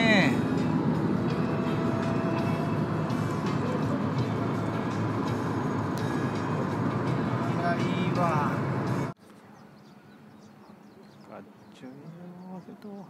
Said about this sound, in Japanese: 電車が来た。